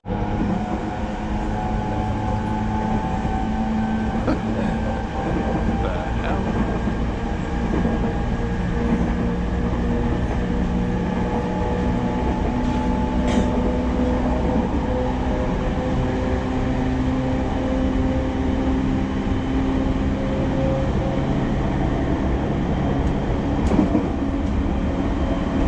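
Inside a moving train in Japan, a steady rumbling hum with faint rhythmic clatter carries on continuously, with occasional brief squeaks and no talk.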